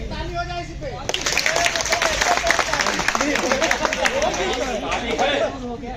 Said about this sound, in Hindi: ताली है ना।